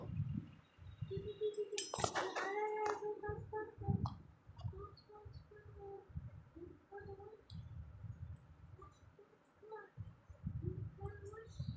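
Spice paste and soybeans are stirred in a pan with a metal spatula, giving repeated scraping strokes and a sharp clink near the start, with a voice talking faintly underneath throughout.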